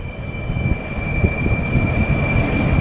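A freight train runs on the Tehachapi Loop, a steady low rumble and rolling roar from a distance with a constant high whine above it, building slightly over a few seconds with no talking.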